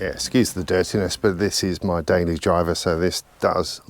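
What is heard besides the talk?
No distinct noise like a dog, phone or traffic.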